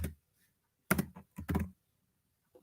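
A few quick computer keyboard keystrokes in two short clusters, close and fairly clear against a quiet room, with no talking.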